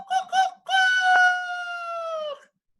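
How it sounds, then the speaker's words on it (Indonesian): A rooster crows nearby: two short clipped notes, then one long, loud, sustained call lasting about two seconds before it cuts off. No voices accompany it. "Ayam."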